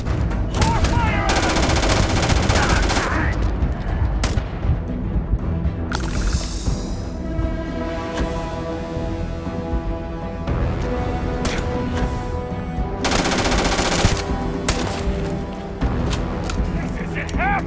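Dense, loud bursts of sci-fi gunfire from a Starfield firefight, with rapid automatic volleys and sharp shots layered over game music and effects, continuing almost nonstop.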